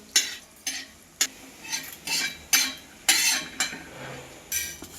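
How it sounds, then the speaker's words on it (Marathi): Poppy seeds are dry-roasted in a pan and stirred, with about ten rhythmic scraping strokes under a faint sizzle, close and clear. "आणि खसखस भाजून घेणार आहोत चांगलं व्यवस्थित भाजून घ्यायचं"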